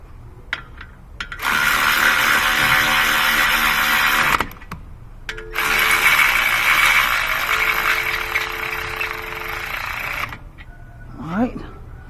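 Ratchet wrench turning brake caliper bolts on a BMW 750 xDrive during a front brake job, two long runs of fast, loud mechanical clicking close up, with brief pauses and a voice speaking in between.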